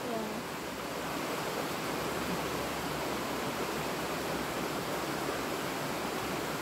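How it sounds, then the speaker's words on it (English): Bubbling methane geyser at a Washington state park, a steady dense rush of gurgling water, close and constant, with no pauses. "the bubbling geyser is not heated by high temperatures, by geothermal heat"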